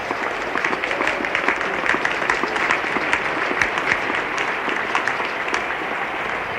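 Steady crowd applause fills the ground at Lord's during a 1973 West Indies versus England Test match, a dense sustained patter of many hands clapping with no voices over it.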